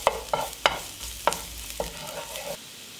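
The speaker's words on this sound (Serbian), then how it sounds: "Na zagrejano ulje dodajem beli luk" Garlic frying in heated olive oil in a pan: a soft, steady sizzle broken by several sharp clacks and scrapes of stirring, close and moderately loud, with no talking.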